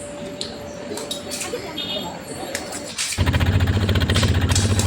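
On a boat trip back from the Masenamma temple, light clinks and people talking give way to a boat motor that starts abruptly near the end and runs in a loud, steady chug.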